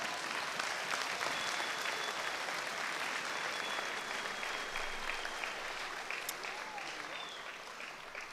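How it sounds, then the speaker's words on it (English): Steady, distant-sounding applause from a crowd at the Great British Pub Awards 2023 ceremony honours the judges, an even patter of many hands that thins slightly toward the end. "Give them a round of applause."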